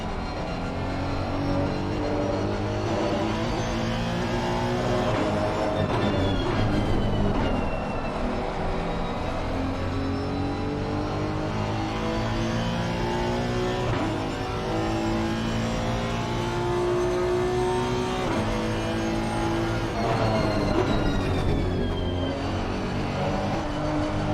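Race cars lapping Donington in the Assetto Corsa Competizione racing game, a steady loud engine roar rising and falling through gear changes for the whole stretch, with no voices.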